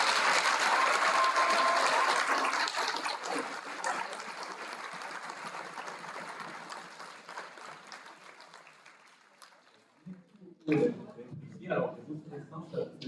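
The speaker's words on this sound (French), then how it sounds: "que je vous propose d'applaudir" An audience applauds to welcome a speaker before her lecture on magnetism: loud, dense clapping that swells at first and then thins out over several seconds. A voice speaks over the fading applause, and a single voice follows alone at the end.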